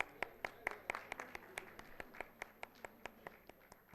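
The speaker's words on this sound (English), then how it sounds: "A big round of applause" Applause at an IEEE conference inaugural ceremony during a felicitation comes as faint, distant, evenly paced hand claps, about four per second, in a quiet room.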